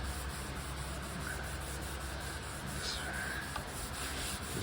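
Finish is rubbed by hand into the surface of a wooden art deco desk, a continuous soft scrubbing swish close up with steady rhythm and no voices.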